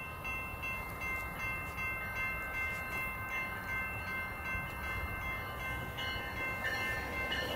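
A train rolls past outdoors with a continuous rumbling roar and a sustained high ringing tone, steady and moderately loud throughout.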